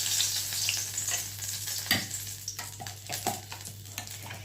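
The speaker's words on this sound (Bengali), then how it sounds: "তাহলে এবারে এই তেলের মধ্যে আমি 2টো এলাচ, একটু লবঙ্গ, 2টো লবঙ্গ আর দারচিনি ফোড়ন দিয়ে দিলাম।" Whole cardamom pods, cloves and cinnamon sizzle in hot oil for a Bengali begun kofta malai curry, a steady close frying crackle with a few sharper spits and pops, no talk.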